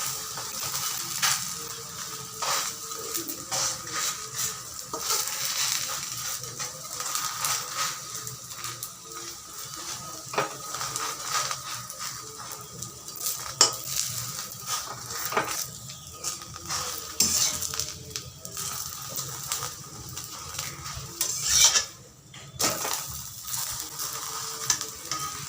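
A paratha fries in a little oil in a pan, steady sizzling throughout with scattered clinks and scraping as it is turned.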